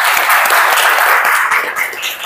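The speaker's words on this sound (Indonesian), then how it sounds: "Tepuk tangan dulu untuk semuanya." Applause fills a classroom or workshop gathering, a dense, sustained wash of many hands clapping at steady volume before easing slightly near the end.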